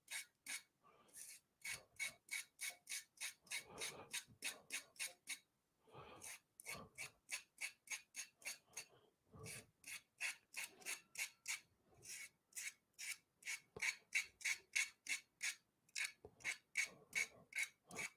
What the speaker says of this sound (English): So bringing this stuff back over and kind of sanding it